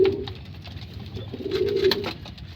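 A foundation pigeon from a Taiwan cross line coos in low, soft pulses, two short rolling calls close by in a quiet loft with faint background sounds.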